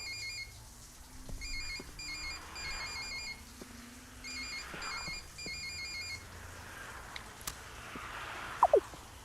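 A phone ringtone chimes in repeated short melodic bursts, moderately loud in a quiet room, followed by a faint rustle and a brief click as the call is picked up.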